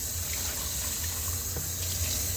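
Hot water runs from a tap during cleaning in a chicken barn, a steady, close splashing gush that continues without pause.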